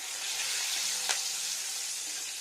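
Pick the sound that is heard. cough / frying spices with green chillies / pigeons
frying spices with green chillies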